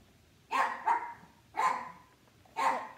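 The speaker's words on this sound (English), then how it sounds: "Please stop the dog from barking." A dog barks three times in clear, moderately loud bursts about a second apart, each with a short double yelp, against a quiet background.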